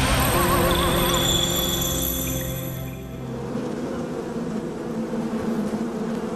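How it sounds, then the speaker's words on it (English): Honeybees buzz steadily around a suburban backyard, a close, dense hum with shifting tones that thins out partway through into a softer, rougher drone. "The humble honeybee has been buzzing around suburban backyards for centuries."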